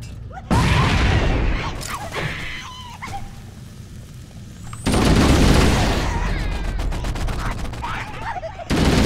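Grenade blasts and rapid gunfire in Halo: Combat Evolved Anniversary crash in as loud, close bursts of shooting and booms, easing between volleys and then surging into a heavier barrage, with a voice talking at times over the combat.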